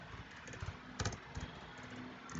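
Steady, quiet clatter of typing on a computer keyboard while writing JavaScript code, with quick irregular keystrokes and one brief louder burst near the middle.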